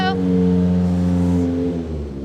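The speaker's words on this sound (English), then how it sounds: "looks like we've got our last few cars making their way in." Cars roll slowly into a drive-in Saturday church service, a steady low engine hum that holds for a couple of seconds under a person talking nearby.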